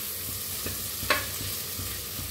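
Spices roasting in a pot for masala rice, stirred with a spoon: a soft, steady sizzle with faint scraping strokes and one brief sharper scrape, all close and gentle.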